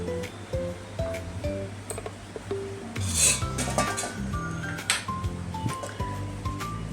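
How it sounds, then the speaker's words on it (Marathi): Kulith flour dough is kneaded by hand in a bowl, with soft rubbing and squishing, occasional light clinks of the vessel and a low background hum, close and quiet. "चला तर आता आपण पीठ मळून घेऊया"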